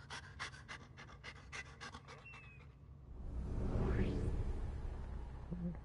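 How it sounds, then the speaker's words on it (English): A puppy in the video game Deceit 2 pants in quick rhythmic breaths for a few seconds, fairly close, then gives way to a rising whoosh and low rumble. "Great little puppy right there."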